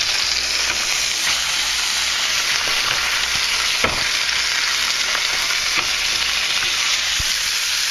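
Steak fries in a pan just after being flipped, a loud, continuous close-up sizzle with occasional small pops and no talking.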